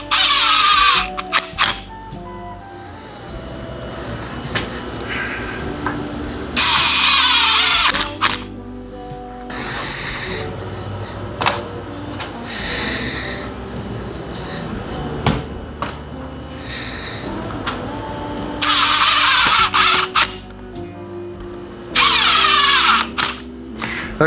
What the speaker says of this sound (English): we're just gonna go ahead and drill the foot, or screw the foot to the leg.